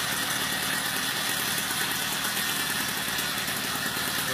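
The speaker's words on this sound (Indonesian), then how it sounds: "Dengan mesin 50cc." A 50cc two-stroke engine fitted to a size-27 mountain bike runs steadily throughout, a dense buzzing drone at constant loud level with no pauses or voices.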